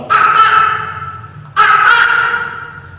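A pair of loud, nearby caws from a pet crow that mimics words, long and hoarse, the second starting after a brief gap and trailing off slowly.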